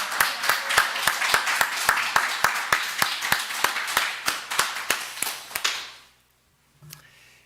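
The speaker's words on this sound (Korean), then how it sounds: "우리 반주에 대한 섬김에 감사하고 또 대학원 진학을 축하하면서 박수로 한번 격려하도록 하겠습니다." Church congregation claps in a steady, evenly spaced rhythm, sharp distinct claps repeating for about six seconds in a reverberant room, then stopping abruptly into near silence with a faint thump afterward.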